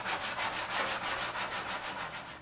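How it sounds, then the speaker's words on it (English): A sanding block working already-sealed panels on a Diamond T truck with 180-grit paper, giving steady rhythmic back-and-forth rasping strokes, about a dozen even passes, close and fairly loud with no voices. "We're sanding it down with 180 because we have to flatten these panels out."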